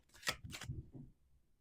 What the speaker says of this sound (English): That was my cat galloping